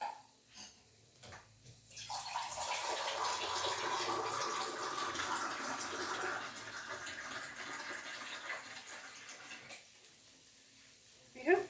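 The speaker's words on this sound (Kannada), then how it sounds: "ಇದೊಂದು ಪೂರ್ತಿ ಗ್ಲಾಸ್ ಆಗೋಷ್ಟು ನೀರು ಹಾಕ್ತೀನಿ ನಾನು." About a glassful of water poured into a pan of egg tomato gravy, a loud, close splashing pour that runs for several seconds before easing off, with a voice briefly heard at the start.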